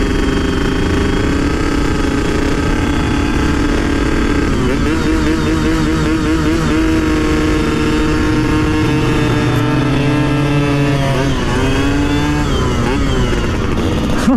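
Suzuki Satria F motorcycle fitted with a KBRS exhaust, a loud, raspy engine note held at high revs with wavering pitch as the throttle rises and falls, close up and continuous.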